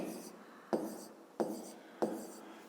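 Close, quiet strokes of a pen or chalk writing out a maths solution for a fifth-grade exercise, in four short scratchy bursts at a steady pace.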